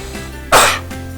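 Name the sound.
forceful cough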